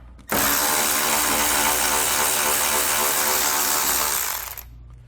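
A power tool, likely an impact driver or drill, turning a 10mm socket to remove a bolt from a 2019 vehicle's grille, whirring loud and steady for about four seconds before winding down and stopping.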